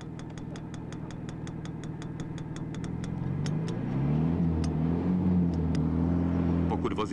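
An Aro 240 vehicle converted to run on wood gas, its engine idling and then revving up as it moves off, with a rapid ticking over the engine noise early on.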